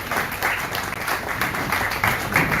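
An audience at a cultural academy event claps steadily to welcome an arriving guest. The applause is a continuous crowd of dense hand claps, moderately loud and unbroken, with no voice over it.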